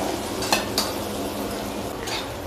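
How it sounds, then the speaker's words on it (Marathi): Onion frying in a cast-iron tawa, a steady close sizzle under soft stirring, with a couple of brief scrapes of the spatula against the pan and no voices. "आता आपण हा कांदा व्यवस्थित फ्राय करून घेऊया।"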